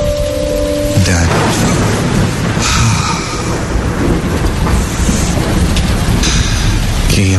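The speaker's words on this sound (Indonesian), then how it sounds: "bikin kaget aja tuh petir" Loud, steady rain pours throughout, with deep thunder rumbling and cracking under it, dense and close.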